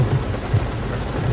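Steady rain, a dense continuous hiss of falling water with low rumbling thuds underneath, loud and close with no voices.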